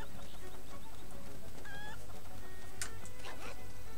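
Chicken clucking from the Link's Awakening video game on Switch, with several short chirpy cluck sounds from the game and a few brief bright accents over a steady, busy game-audio background.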